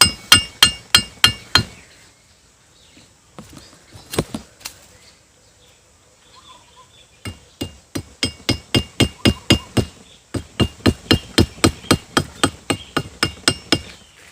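Sharp, evenly spaced hammer blows drive a nail into a male papaya tree trunk, arriving in quick bursts of strikes with a pause in the middle before a long steady run of close, loud knocks.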